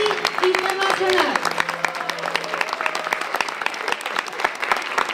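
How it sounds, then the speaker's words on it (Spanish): An audience applauds loudly, dense clapping filling the room continuously, with a few voices and a brief tone underneath. "que todos le demos un fuerte aplauso"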